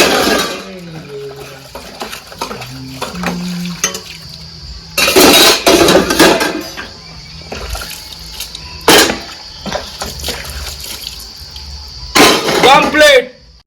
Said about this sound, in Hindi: फाइनली मोर बर्तन धो आ गए